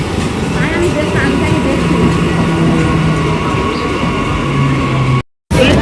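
A train rumbles past nearby at a busy station with a steady, continuous roar and faint rattling, while a crowd and voices talk around it throughout.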